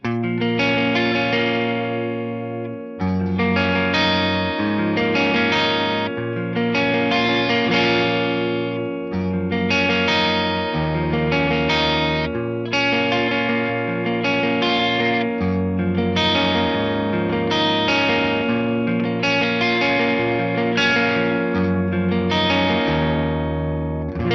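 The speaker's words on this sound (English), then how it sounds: "Then we have this chorus B. I think this is pretty much stock." A Yamaha REV7 rack effects unit running its near-stock Chorus B patch, depth nudged up slightly, colours a loud sustained chord pattern that restarts in repeated swells, the sound shimmering and thickened throughout with no voices.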